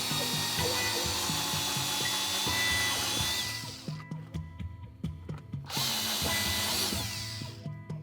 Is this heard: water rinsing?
no